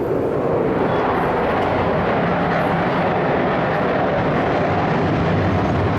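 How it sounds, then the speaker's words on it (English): A steady, broad roar of aircraft engines fills the air, loud and continuous with no clear direction, no voices present. "you can hear the planes, but you can't tell what direction they're coming from"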